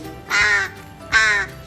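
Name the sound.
crow cawing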